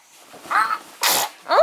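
A four-month-old baby sneezes, with a small sharp sneeze followed by a louder burst and another soft one close up, each a breathy snort, with no speech over them.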